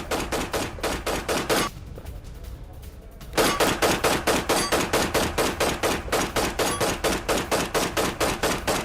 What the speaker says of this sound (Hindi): यूक्रेनी सेना की फायरिंग का वीडियो आया।